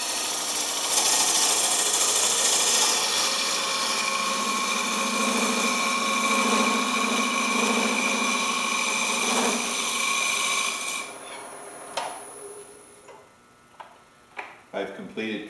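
A wood lathe spins a segmented bowl as its outside is turned, giving a loud steady whirring hum with a cutting hiss for about eleven seconds, then the machine winds down to a few knocks and quieter clicks.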